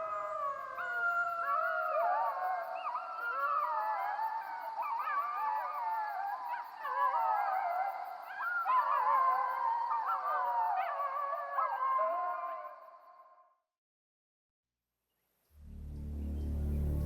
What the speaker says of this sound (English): It is the wolf that makes Algonquin Park wild.